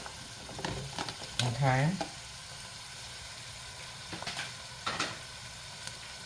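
Mushrooms hit a hot pan for split pea soup with a brief loud sizzle and stirring, then fade to a quieter frying hiss with a few scrapes; a voice speaks once briefly.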